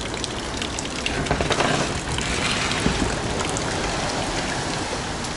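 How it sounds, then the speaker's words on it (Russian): A storm on the seafront at Alanya, Turkey, with heavy rain lashing down, a dense continuous roar of drops and surf close to the microphone, steady and loud throughout with no voices. "дам послушать море"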